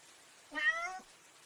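A single short meow, fairly faint, rising and falling over about half a second against quiet background hiss.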